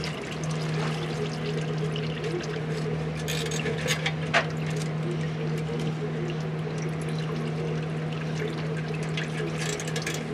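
Transmission fluid from a 1989 Ford Escort ATX automatic transmission pouring and trickling steadily as the pan is pulled off, a continuous splashing flow with a low steady hum beneath it throughout.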